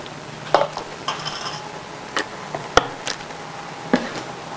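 Vegetable glycerin being mixed into black soap ingredients, with scattered clinks and scrapes of a utensil against a container at irregular intervals, close and fairly quiet.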